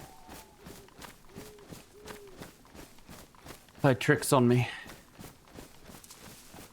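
Player character's footsteps crunching along in the survival game DayZ, a steady run of soft steps heard under quiet background ambience with someone speaking over them and a brief louder voice burst midway.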